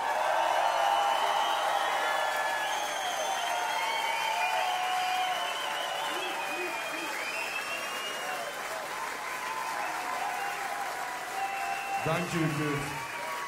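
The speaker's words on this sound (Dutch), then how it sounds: "dan vraag ik ook aan jullie een ongelooflijk warm applaus" Warm audience applause at a live concert at Ancienne Belgique, continuous clapping filling the hall with some cheering, while a presenter speaks briefly near the end.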